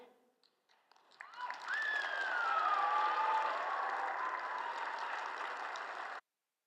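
Applause fills the hall at a university spring gala, a broad, sustained wash of clapping. A high gliding whistle or cheer rides above it, and the sound cuts off abruptly.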